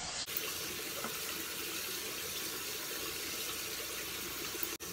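A bathroom tap runs steadily as a face is rinsed, giving a close, continuous hiss of flowing water with a brief break near the end.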